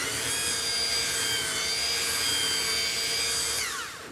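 A belt sander runs over wood in a loud, steady, high-pitched whine layered over a grinding hum, held evenly for about three and a half seconds before the pitch drops and the sound fades as it winds down.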